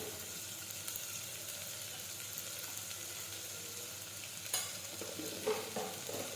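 Long beans are frying and being stirred in a pan with garlic chutney, turmeric and cumin, a continuous soft sizzle with a few louder scraping knocks of the spoon near the end.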